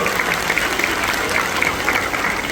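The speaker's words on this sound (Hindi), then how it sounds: "थोड़ा ताली बजाए बताओ मंत्री जी भाई।" A crowd applauds at a public foundation-stone ceremony for development works, with steady, dense clapping throughout and voices faintly mixed in.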